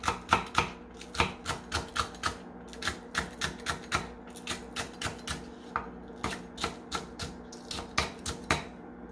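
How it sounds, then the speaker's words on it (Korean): Green onions chopped with a knife on a cutting board for doenjang stew, a fast, steady run of crisp, close knocks in quick rhythmic bursts with brief pauses between. "파는 이렇게 그냥 송송 썰어주시면 돼요."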